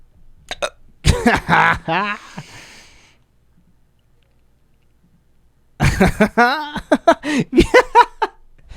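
A man hiccups during a casual podcast recording in a studio, with a couple of sharp, abrupt vocal jerks in close succession amid laughter and chatter, followed by a quiet pause and more talk and laughing.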